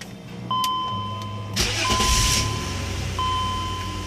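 A BMW engine cranks with the key and catches, a short whirring crank building into a loud start and then settling into a steady idle, heard up close, along with a few steady electronic chimes.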